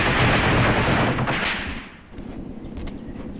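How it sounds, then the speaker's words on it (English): A heavy artillery gun fires in the Graviteam Tactics war game, a loud booming blast that rolls and decays over a couple of seconds, followed by lower rumbling battlefield noise. "Damn, is that a heavy gun, man."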